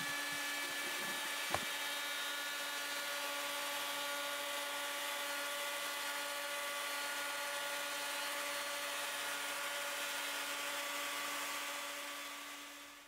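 A router cuts a cutout in a natural-edged walnut desk top, giving a loud, continuous high-pitched whine. A brief knock is heard near the start, and the whine trails off at the end.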